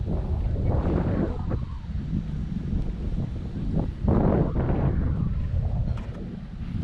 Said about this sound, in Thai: ลมเย็นมากเลยค่ะ